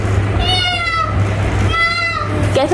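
A child imitates a cat's meow in two drawn-out, rising and falling meows over a steady hum, close and fairly loud.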